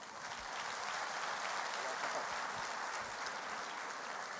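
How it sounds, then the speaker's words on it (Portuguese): A church congregation applauds to welcome Pastor Anderson, a soft, steady wash of clapping heard from a distance and sustained evenly without any voices. "Pastor Anderson, vamos receber com aplauso?"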